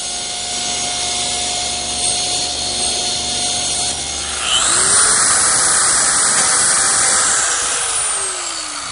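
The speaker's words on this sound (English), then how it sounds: "I've tilted my saw blade to 45 degrees. Now I'll leave about a 1/16 of an inch beyond the line" A table saw with its blade tilted to 45 degrees cuts wood, a loud steady whine that deepens and intensifies as the blade bites in midway, running alone for about nine seconds.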